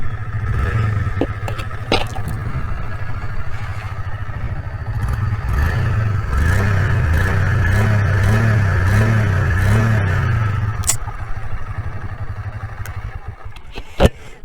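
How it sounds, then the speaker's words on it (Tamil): A 2024 Honda Shine 125 motorcycle starts with a short clatter, then settles into a steady, close, fairly low-pitched running hum that holds for several seconds before a sharp knock near the end. "நான் உங்களுக்கு பைக் வந்து ஸ்டார்ட் பண்ணி காட்டுறேன்."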